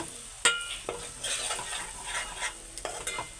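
Prawn curry is stirred in a pan over a soft simmering sizzle, with several distinct scrapes and knocks of a spoon against the pan at irregular intervals. No voices.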